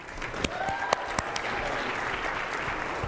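Steady audience applause at a high-tech industry event, welcoming ThoughtWorks' Chief Digital Officer Marcelo to the stage. The clapping stays fairly even and close for about three seconds, with a few sharper claps standing out and no voices.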